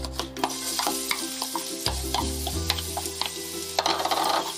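Garlic and shallots sauté in a little oil in a pan over medium-low heat, giving a steady close sizzle with a low hum beneath and occasional scrapes and stirs throughout.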